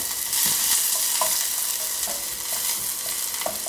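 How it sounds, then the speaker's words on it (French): A shallot sautéing gently in a pan, with a steady, close sizzle and frying hiss throughout, broken by occasional soft stirring scrapes and small pops. "On laisse revenir notre échalote tranquillement"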